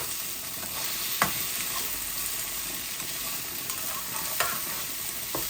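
Dried fish (shutki) frying in oil in a pan, a continuous bright sizzle with a few sharp scrapes of a stirring spatula; no voices.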